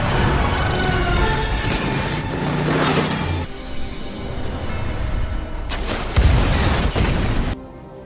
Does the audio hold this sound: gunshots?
yes